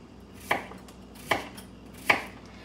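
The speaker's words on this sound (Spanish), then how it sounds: "Aquí estoy picando" A knife chops through papaya on a cutting board for a papaya curtido, three sharp evenly spaced thunks close up with quiet pauses between and no speech.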